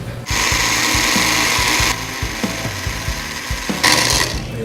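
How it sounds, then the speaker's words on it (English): A food blender whirs loudly, up close, blending hot sauce ingredients under a tight lid, with a harsh, steady roar that changes pitch in surges and stops briefly between bursts. "Once you got all of your ingredients in your blender, make sure your lid is on nice and tight."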